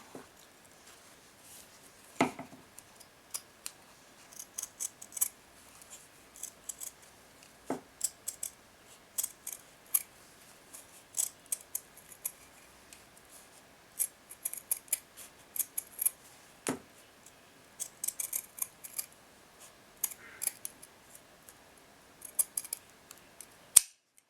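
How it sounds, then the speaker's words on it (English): Scissors snipping around silk shibori embroidery for beaded earrings, a long series of quiet, close, crisp cuts in irregular clusters, with pauses between them. "So I'm going to cut around it on this one too."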